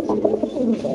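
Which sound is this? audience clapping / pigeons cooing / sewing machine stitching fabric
pigeons cooing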